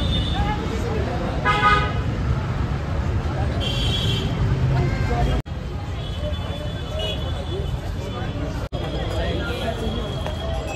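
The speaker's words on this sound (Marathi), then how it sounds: "ऑटोने आता सफर करतोय" Riding in an auto rickshaw through busy street traffic in Rajasthan, with a constant rumbling engine and road noise, repeated nearby horn toots and a hubbub of voices around.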